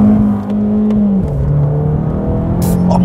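An Abarth car in a city street accelerates hard with a loud, raw engine drone, shifting pitch once partway through before pulling on.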